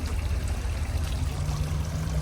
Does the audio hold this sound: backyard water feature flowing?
yes